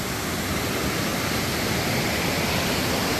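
A waterfall at Serra das Andorinhas in São Geraldo do Araguaia, on a river that drops in three falls, roars as a loud, steady, dense rush of falling water with no pauses or voices.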